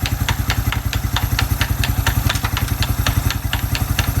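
A Suzuki Quad Runner 250 quad bike engine runs steadily in gear with a rapid, even low-pitched thrum and regular ticking mechanical clatter, close and continuous without any voices.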